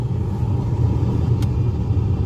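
A steady low whoosh of a 2005 or later Chevy Aveo/Optra AC blower fan pushing air, constant and fairly loud, with no voices.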